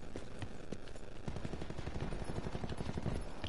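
Rapid gunfire fills a round of Black Ops 4 gun game, with repeated automatic bursts and individual shots crackling continuously throughout, sounding fairly close and dense.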